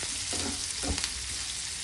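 Onions sprinkled with salt sizzle steadily in a pan, with a continuous hiss and a couple of soft stirring knocks, close and fairly loud with no talk.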